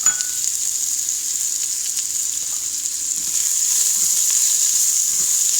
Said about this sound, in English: I'm going to add the sliced onions to it.